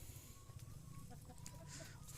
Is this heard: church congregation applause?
no